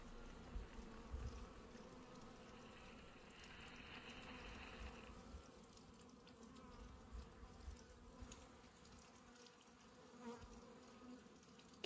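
Honeybees hum steadily around a beehive being gently lifted in a spring garden, a faint, continuous buzz with no one speaking.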